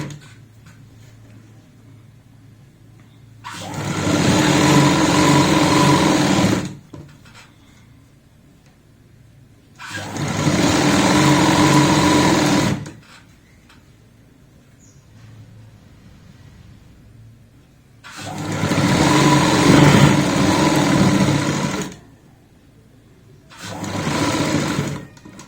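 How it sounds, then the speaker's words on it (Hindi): Sewing machine stitching a seam on a child's jacket or coat with a half-inch margin, loud close mechanical whirring in four bursts of several seconds each, separated by quiet pauses. "तो अब हम यहाँ पे सिलाई लगा लेंगे, आधा इंच का ही मार्जिन रखेगा।"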